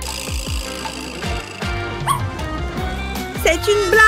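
A dog yips and barks in short bursts at close range, mixed with whimpering, over background music and a busy indoor scene with people talking.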